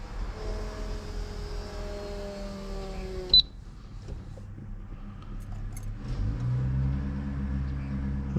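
A cold classic Nissan Z, low on fuel, cranks and catches, its engine then rumbling at idle close by and rising in a steady low drone toward the end, with a brief sharp click partway through and no talk.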